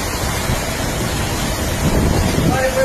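Strong storm wind roars and buffets the microphone continuously near a boat, a dense, loud rushing with no breaks.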